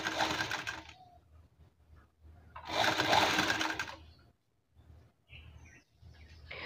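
Sewing machine stitching small gathers into blouse fabric, two close bursts of rapid, steady mechanical whirring separated by pauses, followed by a few short, fainter runs.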